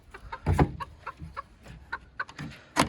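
A black rooster, somewhat wild and shy of people, gives a handful of short, uneven clucks close by in a home poultry yard in Uzbekistan, with quiet gaps between the calls.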